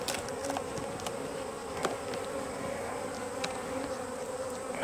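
Honeybees hum steadily around a queenless hive that has laying workers. The buzz is continuous and close, with individual bees zipping past now and then, and no talk.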